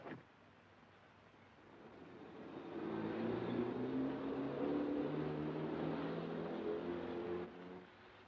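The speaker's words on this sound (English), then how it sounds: "It's a car coming." A car in a 1940 spy thriller approaching on a road, its engine rising from a faint hum to a steady, fuller drone before easing slightly at the end, with no talk.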